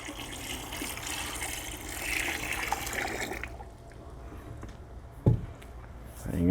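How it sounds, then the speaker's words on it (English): A second gallon of water is poured into coco coir to make a slurry, a steady splashing pour that fills the first half, then quieter wet settling sounds and a soft bump near the end. "you're going to add a 2nd gallon of water"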